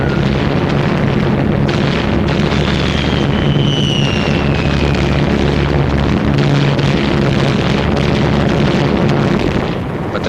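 Bombs from wartime air raids over Tokyo explode in a loud, continuous roaring rumble that barely lets up, with a faint whine of aircraft passing through the middle.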